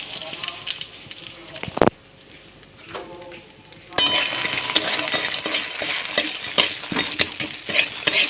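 Lentil dumplings (bori) fry in oil in a wok, a steady crackling sizzle that swells louder after a sharp clink, with utensils stirring and scraping against the metal throughout, close and continuous.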